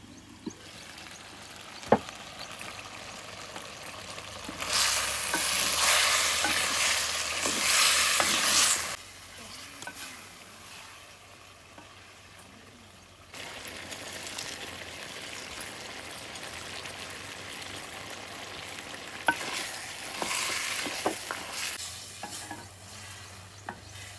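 Coarsely pounded chana dal is stirred into country chicken cooking in a pot. Scraping and stirring strokes come with bursts of loud sizzling that swell, drop away, then return, with occasional sharp knocks and no voices.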